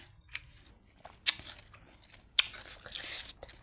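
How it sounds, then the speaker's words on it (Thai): Someone bites into crunchy food and keeps chewing close to the microphone, with two loud crunches and softer crackling chews in between, set against a quiet background. "ขออนุญาตกินก่อนนะจ้า"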